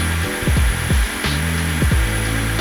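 An Aqua Pro wet floor vacuum runs with a steady motor hum and broad airflow whoosh, its pitch dipping and recovering in a few quick swoops as it works.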